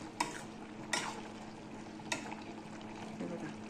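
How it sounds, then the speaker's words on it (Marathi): Eggplant and potato stir-fried in a pan for a dry Maharashtrian vegetable dish, with three distinct spatula scrapes against the pan over a quiet, steady low sizzle. "परतून घ्यायचे।"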